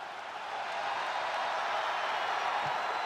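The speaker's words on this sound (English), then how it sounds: "Listen to this ovation." Crowd ovation and cheering greet a wrestler's entrance at an arena in the WWE 2K23 video game, a steady, dense roar from a large crowd that holds for the whole stretch.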